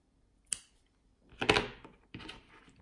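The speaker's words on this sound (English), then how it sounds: "cut your yarn," Crochet yarn snipped with scissors: a sharp click, then a louder crunching cut and a softer follow-up snip, close and clear in a quiet room.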